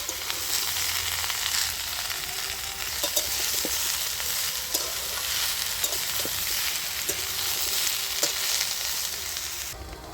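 Thin-cut drumstick stalks and green tomato sautéed together in a pan, a steady close sizzle with occasional stirring clicks running throughout.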